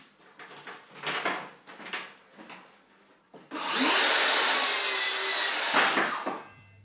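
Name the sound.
hand sawing wooden boards for wall cladding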